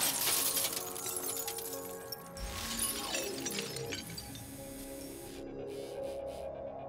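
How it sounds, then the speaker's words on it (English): A small robot's ramrod smashes through a car window, giving a sharp shatter of breaking glass followed by scattered clinking fragments, close and fairly quiet with no talk. "the robot has been fitted with a small ramrod designed to break through glass."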